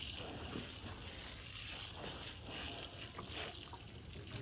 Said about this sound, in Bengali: পুরো মাটিটা ভালো করে ভিজিয়ে দেওয়া হলো।